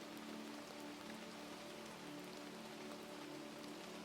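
Steady rain falls in a forest, a soft continuous hiss of drops pattering on leaves and ground, even and faint throughout with no other sounds.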